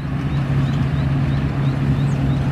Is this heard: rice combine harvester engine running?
yes